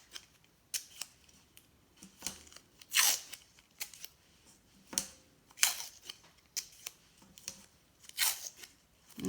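Strips of tape torn and cut with scissors, then pressed onto a tabletop while building a slingshot rocket; a series of short, sharp snips and crinkles at an irregular pace, close and fairly quiet.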